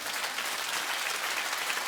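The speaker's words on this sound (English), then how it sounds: "Oh, keep clapping." Steady, dense studio audience applause on a daytime talk show, a continuous broadband wash of many hands clapping at close range with no breaks.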